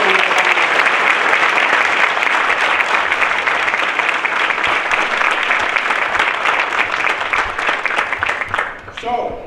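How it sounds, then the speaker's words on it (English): An audience at a casino grand opening gives a senator a loud, sustained round of applause, dense clapping that holds steady before tapering off at the very end, with some voices in the crowd. "Let's give him a round of applause"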